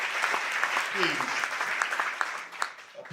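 Audience applause at a campus conversation event at Smith College, a steady wash of clapping from a crowd with scattered louder claps and some voices mixed in throughout.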